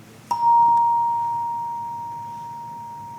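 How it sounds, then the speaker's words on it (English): A single bell struck to open a church worship service rings one clear, bright tone that sounds loud and close, then fades slowly over the following seconds with no voices. "So I will ring the bell, and we will begin."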